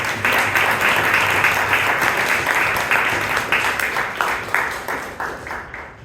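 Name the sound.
applause at Toastmasters club meeting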